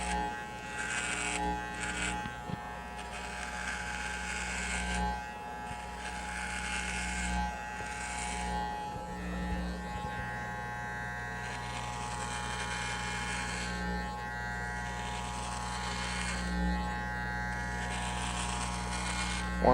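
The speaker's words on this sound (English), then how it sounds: "so we can start the procedure with the razor and the shaving cream" Electric razor buzzing steadily while shaving a person's head, a continuous close mechanical hum running throughout with slight shifts in pitch as it moves across the scalp.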